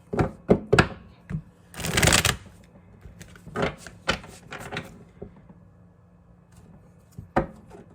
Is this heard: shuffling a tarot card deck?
yes